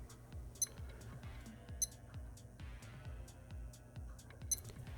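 Casio META ME-110 digital watch alarm beeping in a standard repeating pattern, high thin electronic beeps over faint background noise with a few brighter peaks.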